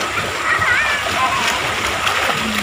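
Water splashes steadily as people bathe in a canal at night in Jhajjar, Haryana, a loud continuous wash and splatter with voices underneath.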